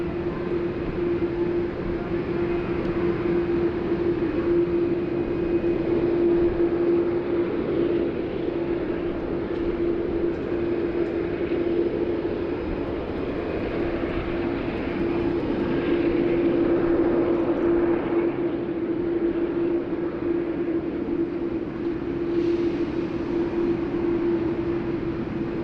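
A Boeing 747 taxiing at Sydney Airport, a steady distant jet engine drone with a persistent tonal hum held throughout, continuous and fairly faint with no talk.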